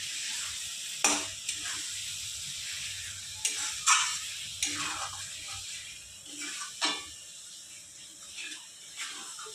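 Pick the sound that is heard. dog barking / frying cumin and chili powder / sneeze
frying cumin and chili powder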